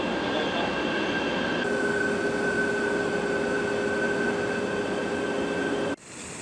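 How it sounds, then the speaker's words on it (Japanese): A clean, comfortable commuter train in Manila rolls along with a loud, steady rumble and a sustained wheel whine, then the noise drops abruptly near the end as the carriage changes. "電車すごく綺麗で快適でした。"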